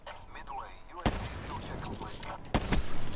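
Sniper rifle gunfire in Call of Duty Black Ops 3, two sharp, loud cracks about a second and a half apart over busy in-game background noise.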